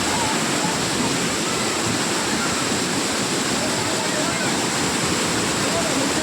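Ukkada waterfall rushing with heavy, steady roaring water, loud and close, filling the whole clip without a break.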